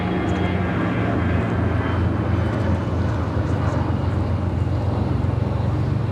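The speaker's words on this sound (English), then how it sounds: "United Heavy 787-10 Dreamliner heading to Tokyo Haneda" Jet engines of a United Boeing 787-10 Dreamliner bound for Tokyo Haneda at Chicago O'Hare give a steady, low droning roar, constant and fairly close throughout.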